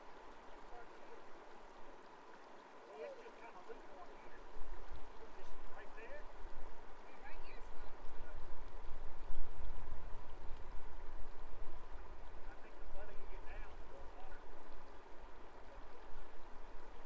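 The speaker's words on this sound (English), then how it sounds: "Here's a place where me and Courtney walked out in the river, soaked a little bit." Steady rushing of a flowing river in Yellowstone National Park fills the scene, a broad continuous wash of water that grows louder partway through, with no clear talk.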